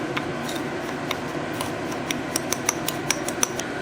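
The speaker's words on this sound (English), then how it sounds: "And just stir these cornstarch and the sugar." A utensil stirs cornstarch and granulated sugar in a bowl, giving light scraping with a series of small sharp clinks against the dish that grow more frequent toward the end.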